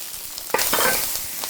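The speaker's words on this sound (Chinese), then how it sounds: "锅里流入少许的底油，把蒜放下去，稍微轻轻的煸一下，再把前面备好的辣椒倒下去炒一下。" Chili peppers are stir-fried with garlic in a little oil in a wok, with a sudden close sizzle as they hit the pan, followed by crackling frying and brief scraping stirs.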